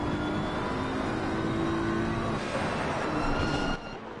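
A Porsche race car in Assetto Corsa Competizione at Monza powers out of a turn, its engine note holding a steady, strained roar that drops off abruptly near the end, with no talking over it.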